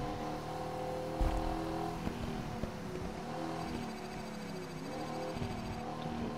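A Ford Bronco drifts around a turn in the rally racing game Gravel, its engine droning steadily with shifting whine and a low rumble of tires throughout.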